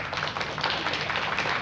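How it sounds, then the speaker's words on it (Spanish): Crowd applause for a host on a stage show, a steady wash of many hands clapping at even loudness throughout, with no one speaking over it. "Quiero un fuerte aplauso para Diego."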